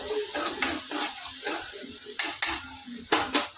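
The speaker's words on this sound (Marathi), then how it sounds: "थोडं वाटण टाकून घेऊयात. हलवून घेऊ" Masala paste being stirred in a frying pan while pomfret curry is cooked, giving a soft sizzle under repeated scraping strokes of a spoon against the pan, several close, distinct clinks with no talking.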